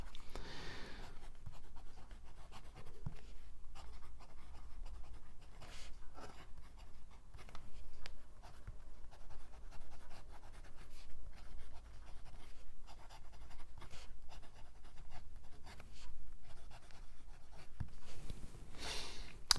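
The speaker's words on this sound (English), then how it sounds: "So let's do the writing sample" An LM Focus 3 extra fine nib fountain pen writes on paper in a long run of faint, close, scratchy strokes with short pauses between words, without speech.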